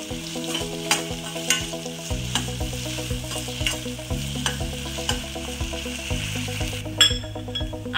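Potatoes, onion and three chillies stir-fry in a pan for kanda poha, a steady close sizzle under repeated scraping and stirring strokes of a spoon against the pan, with no talking.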